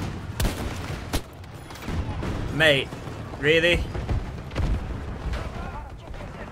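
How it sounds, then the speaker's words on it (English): Explosions and bursts of gunfire from a Battlefield 2042 battle, a few sharp blasts and rumbling booms spread across the scene, with someone talking over the chaos. "Just explosions."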